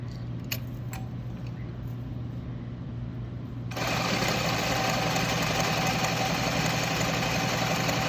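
A sewing machine stitches a 5/8 seam across a shirt yoke with backstitching, its steady mechanical whir starting after a few quiet seconds of low hum and running continuously to the end.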